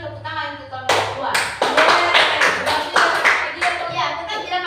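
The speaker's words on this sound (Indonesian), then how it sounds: "Kasih dulu tepuk tangan untuk kelompok 2." Classroom students clapping together for a presenting group, a dense burst of hand claps starting after a second of quiet murmur and continuing loud and steady to the end, with a voice speaking over the opening.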